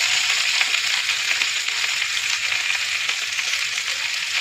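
Spice paste for a khoira fish curry with potato and eggplant fries in oil in a pan, a steady close hiss and sizzle that carries on evenly with no voices.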